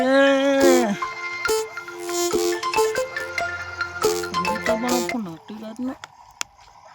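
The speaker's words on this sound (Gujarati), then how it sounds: "આટલી રાતનો કોનો ફોન છે" A melodic phone ringtone plays loudly nearby, a bright tune of stepping notes and chords that cuts off after several seconds.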